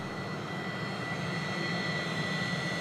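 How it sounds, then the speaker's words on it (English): A Pilatus PC-24 business jet taxis past at Sydney Airport, its engine whine a steady, broad roar with a high tonal edge, continuous and fairly loud throughout. "PC24 Alpha Mike Delta just taxiing past now"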